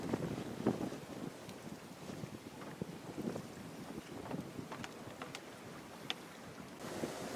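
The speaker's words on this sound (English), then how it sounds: "as we are sailing from Drake's Bay to Half Moon Bay." A sailboat under way from Drake's Bay toward Half Moon Bay off California, with steady wind buffeting the microphone, water rushing along the hull and occasional creaks and splashes, no voices.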